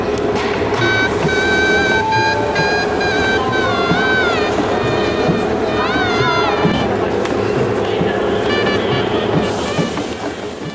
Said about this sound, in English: the noise and activity of the station heads towards its busiest time